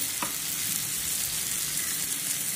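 Onion frying in oil with a little turmeric and garam masala, a steady crackling sizzle with a light stir early on, close and continuous with no talk.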